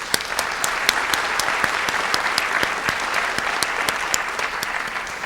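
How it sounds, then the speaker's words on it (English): Audience applause at a Hispanic Heritage Month event: steady, dense clapping with sharp individual claps standing out near the microphone, continuous throughout with no talking. "So we want to give his mom, Yvette, and dad, Wilfred Delgado, a huge round of applause"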